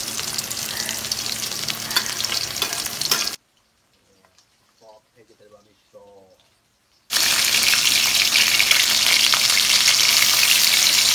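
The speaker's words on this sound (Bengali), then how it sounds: "এখন আমি মাছ ভাজবো" Fish sizzles loudly in a hot frying pan at a family rooftop buffet cook-up, a steady crackling hiss that cuts out abruptly for a few seconds, leaving only faint murmuring voices, before the loud frying resumes.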